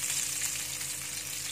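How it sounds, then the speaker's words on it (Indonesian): Sliced shallots sautéing in hot oil for a bean sprout and tofu stir-fry give a steady, bright hiss of close sizzling with no talking. "Yang kita tumis pertama adalah bawang merah."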